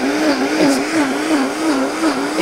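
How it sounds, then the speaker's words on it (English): A blender on its smoothie setting, loaded with water and honeydew melon, runs loud and close. Its motor whirs with a steady pitch that wobbles rhythmically as the contents churn, and no one talks over it. "It's like an AI blender."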